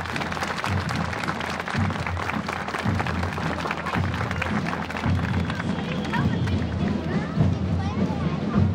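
Crowd watching a 7 September school parade applauds steadily throughout, a dense continuous clapping with a loudspeaker voice and crowd murmur running over it.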